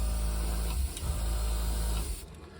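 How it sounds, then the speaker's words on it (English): A small airbrush compressor, the NEOECO NCT SJ83, runs nearby with a steady low hum and buzz. It dips briefly a couple of times and then cuts off near the end. "Doesn't that little compressor go?"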